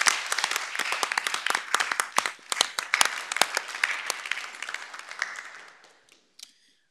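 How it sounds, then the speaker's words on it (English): A modest group at a school district board meeting gives a round of applause for parents and directors. Distinct individual claps are audible, then it thins out and stops, with a couple of stray claps after. "let's give our parents and our directors a big round of applause"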